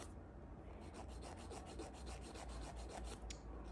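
Fingernails being filed down with a nail file to square off the tips, a close, steady rhythmic rasping of repeated strokes, fairly quiet and alone with no talking.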